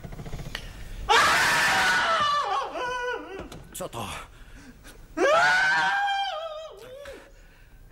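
Two bursts of loud, high screaming, each lasting a couple of seconds and separated by a short pause, heard in a Polish adult fairy tale about a child prodigy; a voice briefly speaks between them.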